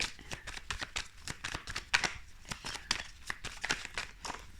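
Tarot cards shuffled by hand, a rapid run of crisp riffling and slapping taps in an irregular rhythm, close and moderately loud, with the deck being handled continuously and no talking.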